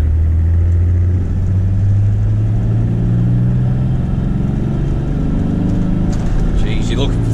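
Toyota Landcruiser 105 series with a turbo 1HZ diesel engine labouring up a hill in second gear, a steady loud low engine drone that climbs slowly in pitch, with people talking inside the cabin.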